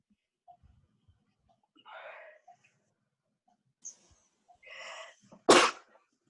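After a couple of wheezy inhales, one loud, explosive sneeze bursts out near the end in an otherwise quiet room.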